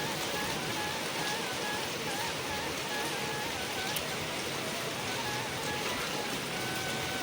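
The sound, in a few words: rain falling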